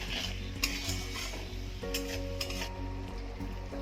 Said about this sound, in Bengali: জলটা দিয়েও মশলাটা আমি ভালোভাবে আর একটু কষিয়ে নেব।